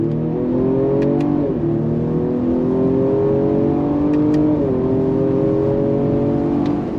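A 2025 Ford Explorer ST with a 10-speed automatic accelerates hard under paddle shifts, its engine note climbing steadily and dropping at each upshift, loud and close from inside the cabin, with soft clicks at the shifts.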